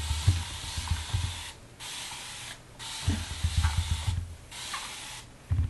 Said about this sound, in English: So I'm gonna get my spray bottle with water and just mist this just with some water,